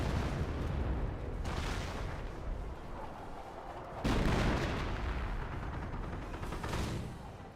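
Werfer rocket barrage artillery in the video game Company of Heroes, a dense, continuous roar of blasts and rumbling impacts with a fresh heavy wave of explosions bursting in halfway through.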